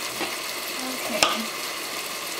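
Ground beef frying in a pan for BBQ, a steady close sizzle with faint stirring and one sharp clink partway through, voices murmuring faintly.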